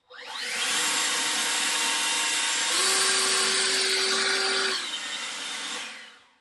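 An EGO 530 CFM leaf blower powered by a 56V replacement battery spins up and roars at a steady, loud whine for about four seconds, with a brief tonal rise in the middle before it eases slightly and cuts off.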